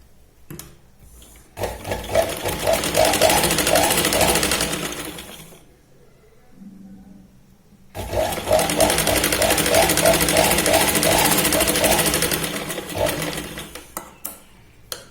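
A sewing machine stitches saree fabric for a Katori blouse in two close, loud bursts of rapid, even stitching, each a few seconds long, separated by a quiet pause with faint handling sounds.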